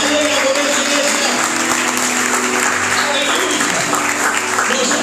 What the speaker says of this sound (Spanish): el fuerte aplauso del Señor